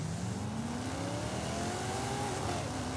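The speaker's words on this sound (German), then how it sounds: "der hat mal einen halbwegs vernünftigen V8-Klang" A V8 car engine revs in the racing game Forza Horizon 5, a steady droning roar whose pitch climbs smoothly through the gears, loud and continuous with no talking over it.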